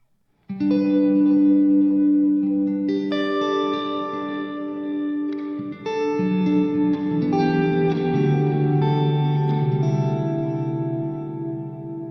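Clean electric guitar chords played through a reverb plugin ring out with a wide, washy reverb tail, sustained notes blending into a lush ambient wash, steady and full throughout.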